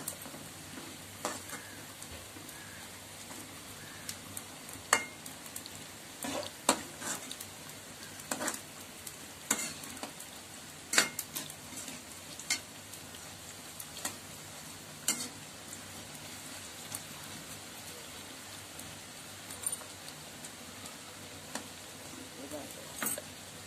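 Bread slices frying in a pan for an evening snack, with a steady broadband sizzle throughout and scattered louder pops and crackles, plus occasional faint clinks as the pieces are turned.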